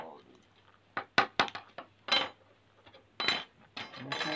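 A metal spoon bangs against a jar in a string of sharp, bright clinks, close and fairly quiet, some in quick clusters, with soft background sounds between hits.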